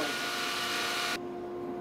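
Spinning duct-cleaning tool working inside ductwork while a vacuum pulls, a steady whirring roar with a tonal whine that suddenly drops in level near the end.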